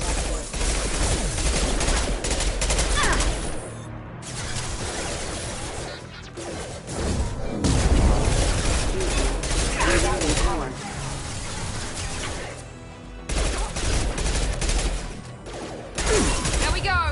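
Gunfire rattles through Mass Effect combat in dense, loud bursts with crashing impacts, pausing briefly now and then before resuming, with game voices speaking over parts of it.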